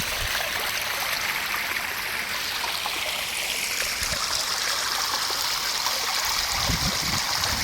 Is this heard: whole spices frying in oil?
no